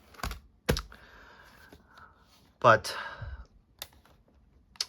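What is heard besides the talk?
typing on a full-size laptop keyboard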